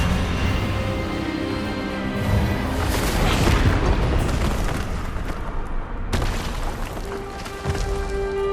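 Spell effect from Hogwarts Legacy, a loud booming magical blast swelling into a rumbling burst, then a sharp crack and fading hum, with no voices.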